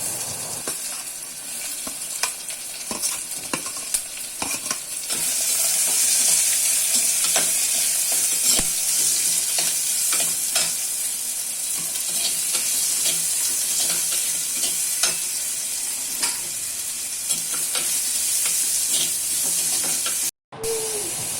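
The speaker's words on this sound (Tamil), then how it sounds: "வெட்டி வச்ச வெங்காயத்தை இதோடு சேர்த்துக்கிறேன்." Chopped onion and green chillies frying in a pan for Tamil egg kulambu, a steady, loud sizzle and hiss with occasional stirring clicks throughout, no voices.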